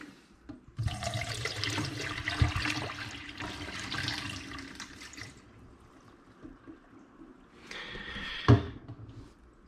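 Water from a Genius Pro-50 five-filter reverse osmosis unit running and splashing into a container, a hissing stream for several seconds that fades, then a brief second burst with a knock.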